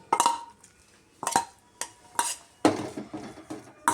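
A metal ladle clatters against a pot and dish while sambar is served, several sharp scraping clinks in irregular bursts, close and fairly quiet.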